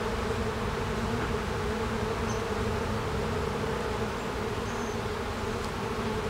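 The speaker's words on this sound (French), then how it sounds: "Je vais secouer ces abeilles-là puis récupérer une demi-tasse pour mon lavage à l'alcool" A dense, steady buzz of honeybees swarms close and loud around a brood frame during an alcohol wash for varroa mites, an unbroken hum without pauses.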